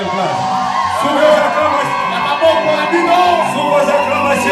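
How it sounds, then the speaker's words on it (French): Wedding guests at a religious wedding ceremony for a couple raise a loud, sustained crowd cheer with whoops and shouts, mixed with voices and music-like tones throughout. "Sous vos acclamations"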